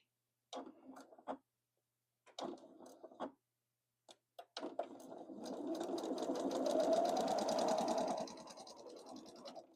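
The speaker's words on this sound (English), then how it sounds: "I'm going to line up my corner where these two come together right on that line and hold it there while I'm sewing." Quilt binding being stitched on a sewing machine: a few short stop-start bursts of needle chatter, then a steady, close, continuous run of mechanical stitching before it slows and stops.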